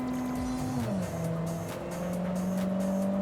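A car engine in the Cyberpunk 2077 Phantom Liberty racing game drones and shifts pitch as it revs, dropping and then climbing again, steady and fairly quiet, with a faint tire-squeal edge.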